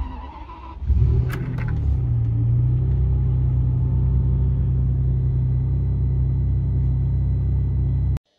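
A Ferrari 550 Maranello idles with a steady, deep engine rumble after a brief start-up burst, holding loud and close for several seconds with no talking.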